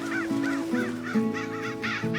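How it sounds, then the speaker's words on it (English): Several crows caw crossly from a nearby tree in a repeated, rhythmic series of harsh calls, close and fairly loud, with no talk. "crows answer, fluttering and calling crossly"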